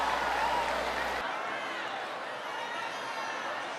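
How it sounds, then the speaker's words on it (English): An audience gives applause for the mayor at a public gathering, a steady wash of many hands clapping, moderately distant and fairly soft, lasting the whole moment. "Give him a big round of applause."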